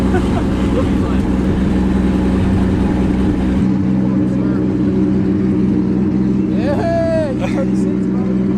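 A 1200-wheel-horsepower Corvette revs hard for a burnout, a loud, close engine roar that suddenly drops away midway. A brief high squeal follows, with people talking over it.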